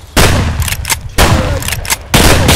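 Video game gunfire from a shotgun and a pistol, loud close blasts in three bursts roughly a second apart, each ringing out with heavy noise between shots.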